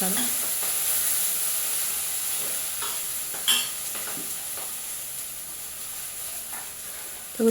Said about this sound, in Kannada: ಹಸಿದು ಅದನ್ನು ಹಾಕಿ ಫ್ರೈ ಮಾಡೋಣ ನೋಡಿ